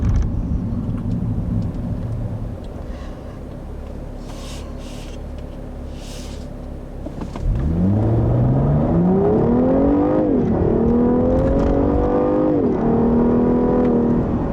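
A 2014 Cadillac CTS V-Sport's six-cylinder engine idles with a low drone, then surges into hard acceleration, its pitch climbing steadily through gear changes with brief dips, loud and close from inside the car.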